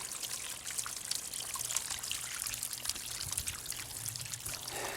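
Water trickles and splashes in a bird bath converted into a water feature outdoors, a soft continuous burble with small drips, close but quiet, with no talking.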